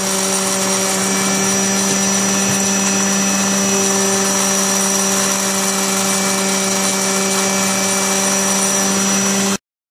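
An electric sander runs continuously at close range as it sands the edges of pipe pieces for a floating dock ladder, giving a loud, steady whine that stops abruptly at the end.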